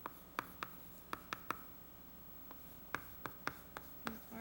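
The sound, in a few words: writing on a board during a math lecture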